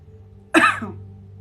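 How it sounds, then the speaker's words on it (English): A single short, raspy cough, close by, followed by quiet room tone. "It's my little weird cough."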